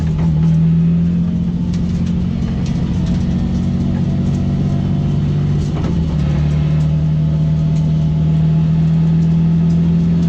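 A turbocharged BMW E36 drifts at full throttle amid heavy tire smoke and flames, its engine roaring as a loud, sustained, steady drone close by, with a slight dip and recovery midway.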